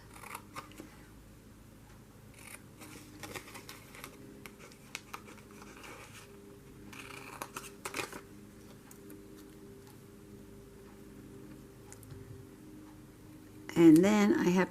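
Scissors cutting out paper for a steampunk journal craft, giving soft, close snipping and ticking sounds scattered across a quiet stretch, ending with a louder burst of handling noise.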